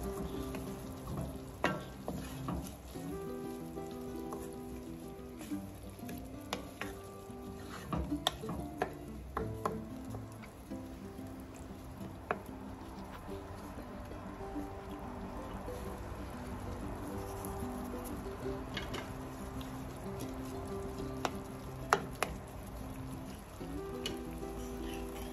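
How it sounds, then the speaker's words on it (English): Peppered fish sauce being gently stirred in a pot, a soft continuous frying simmer with scattered light clicks and scrapes of the spoon against the pot throughout. "I'll stir everything up gently"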